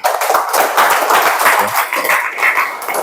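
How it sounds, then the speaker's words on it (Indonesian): A classroom of students claps hands together, a loud, close, busy patter of many small hands with a slightly rhythmic surge throughout, no talking over it. "Mari kita tepuk tangan dulu"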